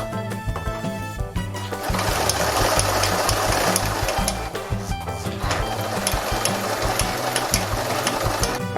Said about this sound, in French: Faites du surfilage avant de fermer définitivement votre masque.